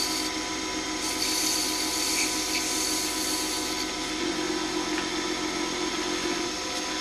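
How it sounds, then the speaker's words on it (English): Miniature bowl being sanded with 400-grit wet-dry sandpaper, a steady close scratchy rubbing that continues throughout at moderate volume. "Now I'm going to switch over to some wet dry sandpaper. This is 400 grit."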